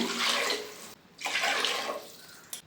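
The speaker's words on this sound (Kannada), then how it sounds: "ಎರಡು ಗ್ಲಾಸ್ ನೀರು ಹಾಕ್ತಾ ಇದ್ದೀನಿ" Two glasses of water are poured into a cooking pot for vegetable bath in two splashing gushes separated by a short pause, close and fairly loud, with a faint clink at the end.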